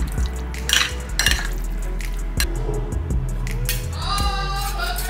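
Buttermilk chicken marinade being stirred in a bowl, wet squelching and dripping with sharp clinks of a utensil against the bowl at irregular intervals, close and with no talking.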